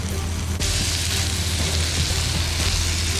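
Melted butter and seafood sizzle in a frying pan, a loud, dense crackling hiss that holds steady throughout after a brief jolt near the start, with no voices.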